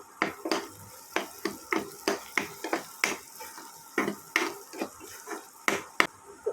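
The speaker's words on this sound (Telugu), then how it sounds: "కొంచెం పసుపు వేసి కలుపుకోవాలి" A spoon scrapes and taps steadily against a pan as frying onions are stirred with turmeric for a country egg fry. Quick, even clicks repeat about twice a second, close and fairly loud, with a faint sizzle underneath.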